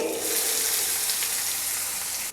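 Loud, dense sizzling and crackling of tempering spices hitting hot oil, close and continuous throughout.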